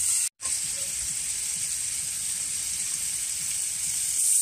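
Potatoes fry in a large wok after a sauce of scallion, ginger, star anise and light and dark soy sauce is poured in, giving a loud, continuous hiss and sizzle with a brief cut near the start.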